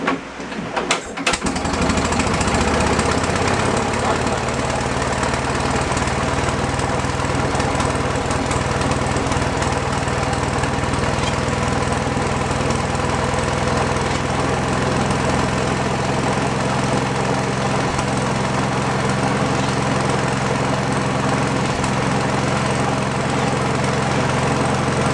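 An old Wisconsin generator engine starts up and runs steadily for the full stretch, a loud, close, rough mechanical drone with a rapid chugging beat and no one talking over it.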